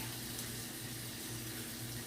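Water running steadily from a kitchen tap, measured out as 1 3/4 cups for a vegetable and steak curry, a continuous even splashing stream with no talk over it.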